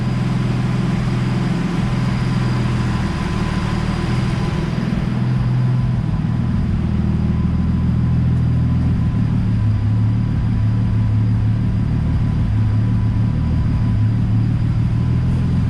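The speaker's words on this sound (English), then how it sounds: "on the test drive, the car started to stutter, as you can hear" A Nissan S13 with an RB20DET engine runs with a low, uneven rumble that sputters and surges irregularly, steady and close throughout, with no one speaking.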